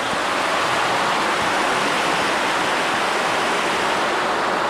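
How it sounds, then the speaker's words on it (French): Water of a river pouring steadily over a small weir, a continuous close rushing wash with no pauses, loud and even from start to finish with no talk over it. "Ah, c'est apaisant avec le bruit de la rivière comme ça."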